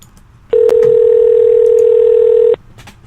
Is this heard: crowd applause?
no